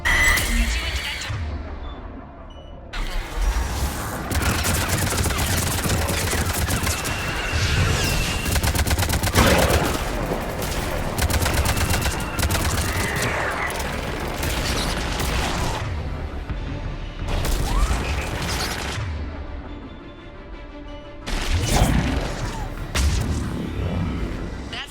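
Missiles and then gunfire from the game Mass Effect Legendary Edition, heavy continuous battle noise with dense volleys, booms and explosions, loud and close, broken by brief lulls.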